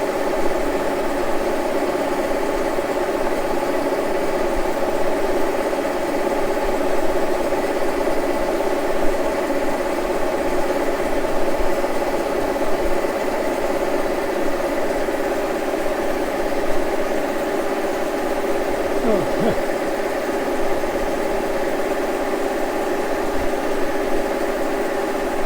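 A machine-shop cutter working a Harley-Davidson crankcase gives a continuous steady drone with tonal whine, unchanging and fairly loud for the whole stretch.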